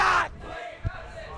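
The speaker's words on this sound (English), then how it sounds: "Oh, and we hear the crowd." Live crowd at a Guilty Gear Strive top-eight tournament erupting in a loud, brief cheer that cuts off quickly, followed by quieter arena ambience and a short thump.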